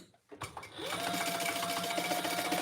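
A sewing machine stitching a travel case pattern: after a brief pause and some handling noises, the motor whirs up into a steady, continuous, close-up running hum that carries through to the end.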